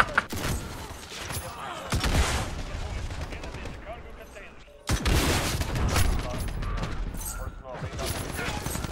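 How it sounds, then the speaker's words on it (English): Dense automatic gunfire rattles in Call of Duty: Modern Warfare while shooting down a UAV, with loud overlapping bursts and booms. A brief pause comes before a renewed, sustained volley, and game effects and chatter sit underneath. "I shot a UAV down!"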